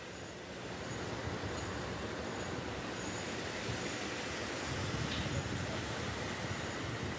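A metro train runs steadily with a continuous broadband rumble and rolling wheel noise, loud and close, with no talk.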